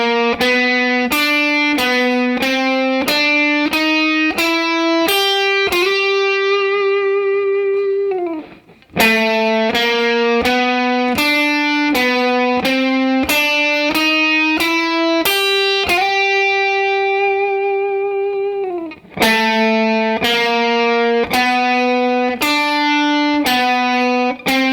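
Jazz blues guitar lick played slowly, a run of distinct picked notes stepping up and down, ending on a held bend, repeated three times with brief gaps, close with a slightly driven electric tone and no voices.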